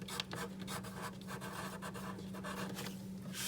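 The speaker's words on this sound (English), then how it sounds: "on this side, I'm going to write help" A pen scratches out words on a paper bookmark in short, close, rhythmic strokes, faint and steady against a low background hum.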